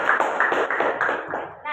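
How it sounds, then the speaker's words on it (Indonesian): A classroom claps together in a brief rhythmic round of applause, with evenly spaced claps over about a second and a half and a voice coming in at the end. "Tepuk tangan."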